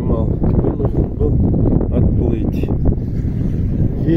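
Steady, loud wind buffets the microphone out on a boat on the Tiligul estuary during a fishing trip, a dense continuous rumble with no speech.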